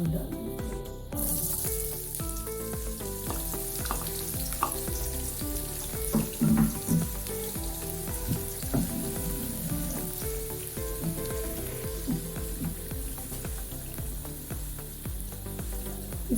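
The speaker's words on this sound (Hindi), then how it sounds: "सबसे पहले हम प्याज डाल देंगे।" Onions sizzle and fry steadily in a pan for a lobia (red bean) curry, a continuous hissing crackle with occasional stirring clatter, close and moderately quiet.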